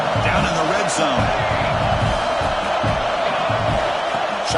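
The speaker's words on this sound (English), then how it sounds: "the crowd coming to life here, trying to help this defense down in the red zone" A virtual stadium crowd in College Football 26 swells and roars as the home side's defense digs in near its own goal line, a dense continuous din under an excited play-by-play commentator.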